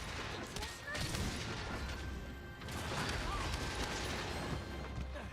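Dense video game gunfire in rapid, overlapping bursts, loud and sustained, with a player talking over the shooting.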